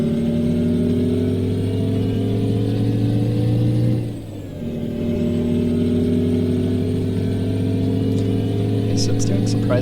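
A heavy truck of about 300 horsepower with a 10-speed transmission drives in a truck-driving video game, its engine drone steady and loud. It dips briefly as if shifting, then climbs back to a constant rumble.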